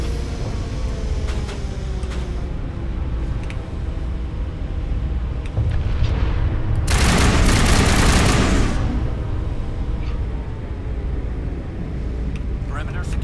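Rockets fire in the Mass Effect video game: a loud, roaring blast-like burst lasting about two seconds rises mid-scene over a steady battle rumble, with voices speaking.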